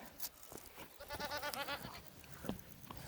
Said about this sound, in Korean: 우리 염소들이 내가 산기도 가는데 이렇게 아는 체 안 해요.